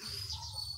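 A brief bird chirp outdoors near an improvised bingka oven, a thin high call over a low background rumble.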